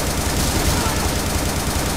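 Assault rifle fire in the video game Butcher, a loud continuous rattle of rapid automatic shots forming a dense, unbroken wall of sound throughout.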